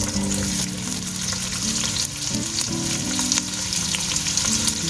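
Onions fry in half a cup of oil in a pot for qeema shimla mirch, producing a dense, loud, continuous sizzle with a low steady hum underneath and no talking.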